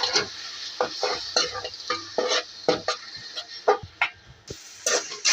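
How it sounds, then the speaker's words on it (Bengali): Vermicelli frying in oil and ghee with cardamom and cinnamon, stirred in quick uneven strokes, giving repeated close scraping clicks over a light background sizzle. "এটার মধ্যে আমি এলাচ দারচিনি দিয়ে সেমাই দিয়ে একটু লাড়াচাড়ি করছি, ভাজাভাজি করছি।"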